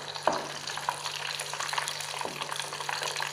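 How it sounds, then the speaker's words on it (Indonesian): Tahu aci, tofu stuffed with a tapioca filling, frying in hot oil with a steady, close sizzling hiss, a few brief splashy bursts as pieces drop in, and a low constant hum underneath. "kita masukkan ya kita mulai menggorengnya ya"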